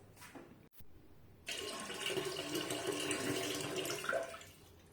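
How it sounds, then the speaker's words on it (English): Water poured from an electric kettle into a toilet tank, starting after a short pause as a steady splashing, gurgling fill that runs for several seconds, close and clear with no talking. "electric kettles to fill the water into the toilet tanks"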